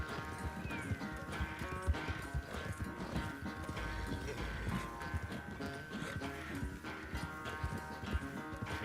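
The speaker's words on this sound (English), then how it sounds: "This horse is absolute trash." Rhythmic galloping horse hooves pound steadily under busy background music in Red Dead Redemption 2, a fast clip-clop that carries through the whole stretch.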